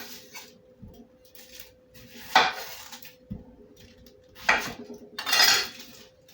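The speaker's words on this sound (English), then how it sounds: "I'm going to cut up a nice big red onion in here." A big red onion being cut on a board in a home kitchen, giving a few separate knife knocks and broadband scraping bursts, moderately close, with a steady fan hum behind and no talking.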